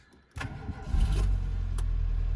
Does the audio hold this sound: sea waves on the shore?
no